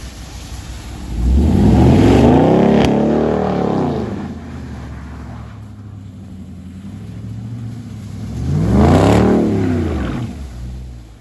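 Dodge Daytona with a mid-muffler delete sliding in snow, two separate loud revs that climb and fall away, with a quieter idle rumble between them.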